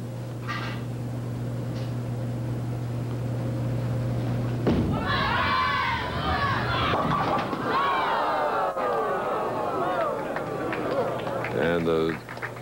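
Bowling ball crashing into the pins at a 1988 PBA Florida Open match, a loud clattering burst of scattering pins from about five seconds on, followed by crowd applause and a commentator's voice over the arena noise.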